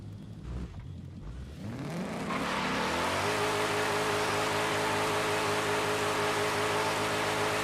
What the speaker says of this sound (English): The downshifts are nice.